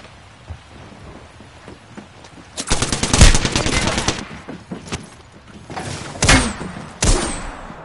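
Gunfire in the video game Apex Legends comes in rapid bursty volleys, a dense barrage around the middle followed by a few sharper shots near the end, loud over a noisy game background.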